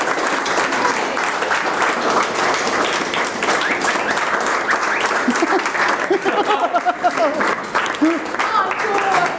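Sustained audience applause after a poetry reading in Cedar City, dense steady clapping filling the room for the whole stretch with a few voices mixed in.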